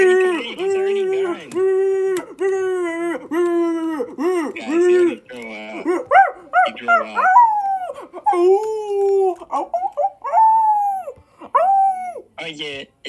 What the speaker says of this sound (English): every time you see the mailman, you keep barking at him